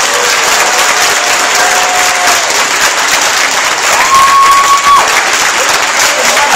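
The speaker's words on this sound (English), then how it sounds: "I heard it was mostly clapping" A town hall audience at UC Davis claps loudly and steadily in a dense, sustained wave, with scattered voices and a brief whistle-like tone rising through the crowd noise.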